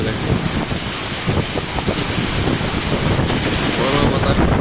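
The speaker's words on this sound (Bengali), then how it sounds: "দেখেন কি পরিমাণ বাতাস, কি পরিমাণ ঝড় বইতেছে" A strong storm wind roars steadily and loudly in a dense, unbroken rush that buffets the microphone, with no clear pauses throughout.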